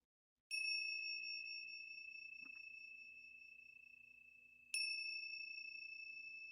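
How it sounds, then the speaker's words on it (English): Two meditation bells are struck, one near the start and one about four seconds later. Each gives a clear, sustained ringing tone that slowly fades and lingers, with a faint low hum underneath. "as I ring the bells, just let yourself stay for the whole vibration and really let yourself feel that"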